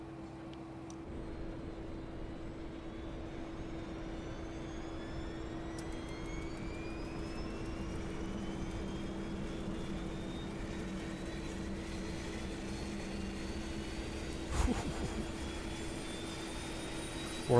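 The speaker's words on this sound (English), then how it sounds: "the sound here for the APU startup is so good" APU of a Fokker F28 spooling up in a flight simulator game: a steady turbine whine and hum holds evenly throughout, with a faint rising tone and one brief knock near the end, no talking.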